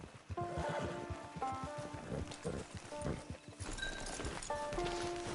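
Steady clip-clop of horse hooves with an occasional whinny in Red Dead Redemption 2 Online, layered over a busy game soundtrack with music tones.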